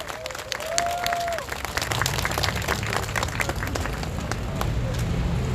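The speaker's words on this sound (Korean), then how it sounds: "박수 한번 보내주시기 바랍니다." Outdoor street crowd in Dongmyo, Seoul claps steadily for several seconds at a rally, applause mixed with some cheering and murmur, a brief voice cry near the start.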